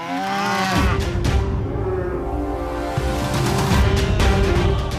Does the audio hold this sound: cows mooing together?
yes